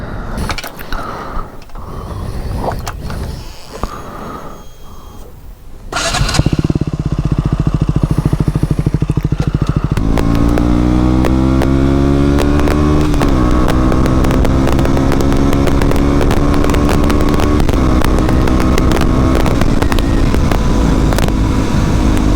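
A motorcycle engine starts up after a few seconds of quiet handling noise, then idles loudly and revs as it pulls away, its pitch climbing through the gears in a steady, close roar that lasts to the end.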